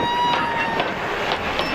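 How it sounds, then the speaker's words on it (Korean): A handmade red train built in Britain, a replica of an old steam locomotive, rolls into a theme park station in Jeju, heard as a steady rumbling, clattering wash of rail noise with faint metallic tones. "마침 멀리서 빨간 기차 한 대가 들어옵니다."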